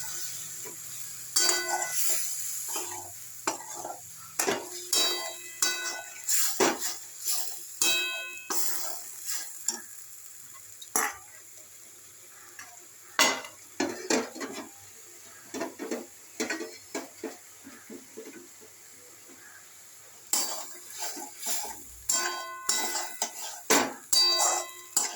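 Egg curry being stir-fried in a pan with salt and ginger, heard as irregular bursts of a spatula clinking and scraping against metal, separated by quiet pauses.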